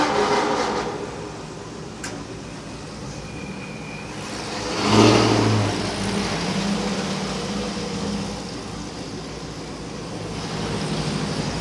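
Ford Shelby GT500 cars roll past at low speed, and their engines swell to a broad rumbling peak midway before fading. A steady layer of road and traffic noise sits underneath throughout.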